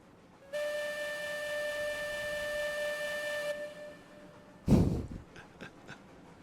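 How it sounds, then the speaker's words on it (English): A steam locomotive whistle in the game Railroads Online gives one long steady blast of about three seconds, fairly loud and alone, and then fades out. A short louder thump follows near the end. "Blow that whistle."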